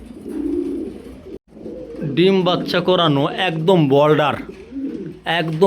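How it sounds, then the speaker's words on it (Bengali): Pigeons in a breeder's loft, kept as a breeding pair, coo and call in rolling bursts close by, partly overlapped by someone talking. "চলেন আরেক পেয়ার দেখাই ভাই, সর্বোচ্চ গেটআপ সেটআপের কবুতর ভাই।"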